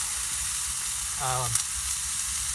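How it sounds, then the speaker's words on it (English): Onions and peppers sizzle steadily in a frying pan holding taco meat, cooked in a parking lot. A soft, constant crackle carries throughout, with a short tonal chirp partway through. "nice and sizzly already"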